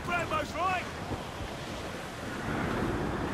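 Wind and sea waves in Assassin's Creed IV Black Flag: a steady, broad rushing wash of surf and wind that swells slightly toward the end, after a brief burst of voices at the start.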